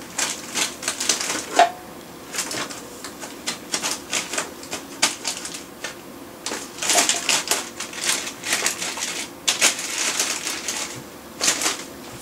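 Buttons clicking on a computer keyboard during the finishing of an i7 PC build, heard as irregular bursts of sharp, close taps, sometimes rapid runs and sometimes single presses, throughout with no talk.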